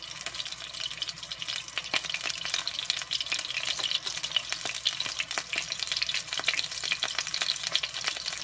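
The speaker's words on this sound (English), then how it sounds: "so we can hear it sizzling." Ricotta-stuffed Italian meatballs brown in a hot pan, crackling and spitting in a continuous, close sizzle with sharp pops scattered throughout and no voices over it.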